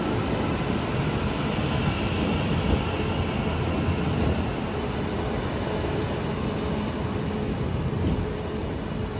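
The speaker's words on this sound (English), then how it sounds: "Arriving in now, I believe, finally, is a train that will take me to Manchester Piccadilly." Train pulling into a station on the line toward Manchester Piccadilly, a steady loud rumble of wheels and engine filling the whole stretch with little variation and no talk.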